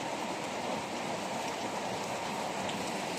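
Steady rain pours down evenly, a dense hiss of drops hitting surfaces, with no voices.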